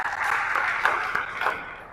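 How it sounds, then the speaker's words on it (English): A youth gathering audience claps in a steady, soft patter. The applause is fairly distant and carries on for about two seconds, with no voices over it. "I thought I'm going to get a clap"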